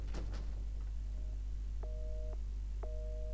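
Telephone ringing in the horror game Resident Evil 7, two electronic double-tone ring bursts about a second apart, faint and thin over a low steady hum, with a couple of soft knocks before.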